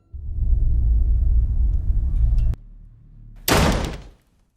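A door in a horror film slams shut violently, preceded by a low rumbling build-up and ending in a sharp, loud crash followed by a brief burst of noisy clatter, with no voices present.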